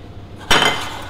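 A small saucepan handled while making chocolate ganache with cream for crepes gives one sharp metallic clank, near and fairly quiet, followed by a short ringing decay.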